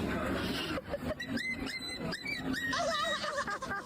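A person whines and whimpers in high, wavering squeals, mimicking a crying dog, over a background of rustling noise.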